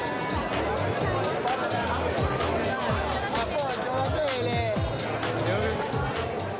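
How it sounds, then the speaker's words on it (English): An evening crowd fills the streets of Ibiza with a dense babble of voices and passing traffic, steady and fairly loud throughout, while one voice talks over it. "As the evening progresses, the crowd increases."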